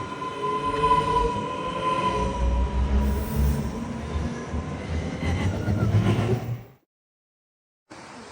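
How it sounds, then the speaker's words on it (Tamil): A train in Switzerland bound for Lucerne rolls past with a loud, continuous rumble and faint squeals, then the sound cuts off abruptly near the end. "ட்ரெயின் பாருங்கள், லுகானா வரைக்கும் போகுது."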